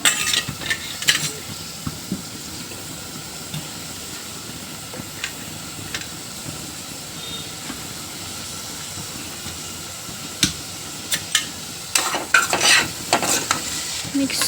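Tomatoes stirred into cooked onions and curry leaves frying in a pan give a steady sizzle, with scrapes of a spoon and sharper clatter near the end. No one talks.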